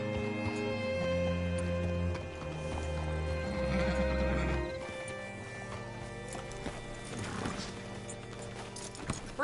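Video game horse hooves clip-clop and a loud neigh sounds over a steady musical backdrop, with the whinny rising midway and hoofbeats continuing after.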